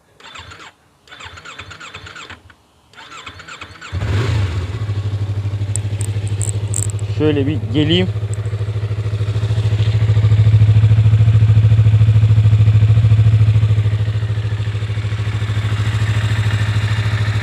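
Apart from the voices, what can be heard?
motorcycle engine with stock exhaust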